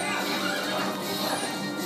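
A horse whinnies loudly in The Legend of Zelda: Twilight Princess, the call sustained over a dense, noisy bed of combat sound with hoof clatter and crashes, filling the short moment without pause.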